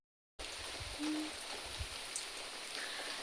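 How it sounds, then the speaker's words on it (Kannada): Light drizzle falling steadily outdoors at the start of the rainy season, a soft continuous hiss of fine drops with a brief faint tonal call partway through, no voices. "ಹೀಗೆ ಹನಿತಾ ಇರುದಾಯ್ತಾ ಮಳೆ."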